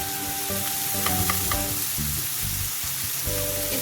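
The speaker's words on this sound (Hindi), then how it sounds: "साथ साथ हम इसको तेज आंच करके भूनते जाएंगे और साथ साथ हम इसको तोड़ते जाएंगे" Chicken for shawarma fries on high heat in a pan, a steady loud sizzle throughout with scraping taps as a spoon breaks the meat into small shreds; no talking.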